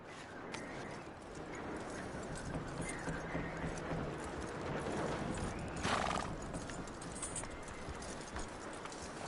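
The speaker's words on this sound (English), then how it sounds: "That looks like a decent horse." A horse in the video game Red Dead Redemption 2 clip-clops and whinnies amid ambient outdoor game sound, the hoofbeats steady and moderately quiet throughout.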